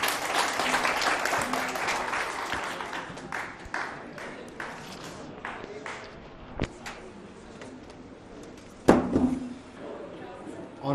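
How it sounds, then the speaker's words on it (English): An audience applauds at a seminar at IITM, the clapping strongest at first and thinning out over several seconds, with a few stray claps and voices later on. "Please welcome him with a big round of applause."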